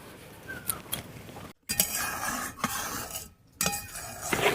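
A spoon scrapes and clinks against a metal pot as milk thickened with rice flour is stirred over low heat, in irregular close strokes broken by two brief pauses.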